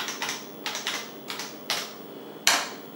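Someone types on an old PC keyboard, giving a run of sharp, uneven key clacks, close and clear, with one louder strike near the end and no speech.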